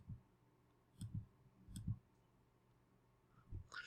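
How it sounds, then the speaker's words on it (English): Computer mouse buttons clicking in a quiet room, about four soft separate clicks, some in quick pairs, with short pauses between them and no voices. "click with the mouse"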